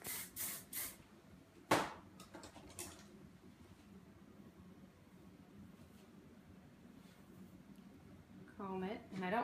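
Hairspray spritzed close by onto a braided bun hairstyle in a few short, sharp hissing bursts, with a steady background rumble in between.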